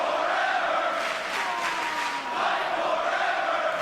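Crowd at a wrestling show roaring steadily, a dense sustained swell of voices and cheers that rises and falls over a few seconds.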